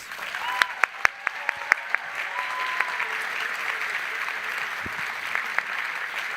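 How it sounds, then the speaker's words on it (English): Applause for student speakers at a university graduation gala, a steady crowd clapping with a few sharper individual claps standing out early on, sustained at moderate level throughout. "One more round of applause, please."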